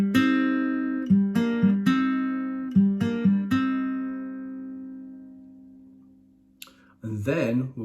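An acoustic guitar picks a short melodic phrase from a TV theme, a run of plucked notes ringing out and decaying, followed by a brief moment of speech at the end.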